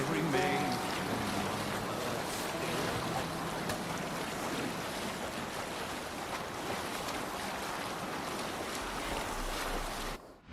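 Boat sailing at sea in Assassin's Creed Valhalla, a continuous rushing wash of wind and waves with buffeting noise, steady and loud, ending abruptly near the end.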